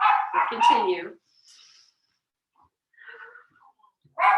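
A dog lets out a burst of loud barks at the start, followed by fainter distant yips in a quiet room, and a woman's brief words come at the end.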